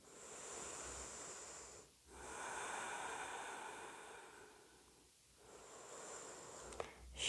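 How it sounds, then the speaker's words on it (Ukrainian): Calm, slow breathing during a morning breathing exercise: two long, soft breaths separated by brief pauses, faint and close. "Спокійний вдих, спокійний видих."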